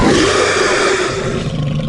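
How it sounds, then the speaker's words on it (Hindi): A cartoon yeti gives a loud, sustained roar that fills the whole moment, harsh and close with no speech over it. "वो जोर से दहाड़ता है"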